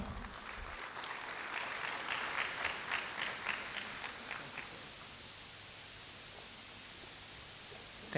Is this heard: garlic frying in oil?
no